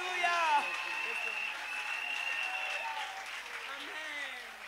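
A church congregation applauds in a continuous wash of clapping, while voices shout and call out over it throughout.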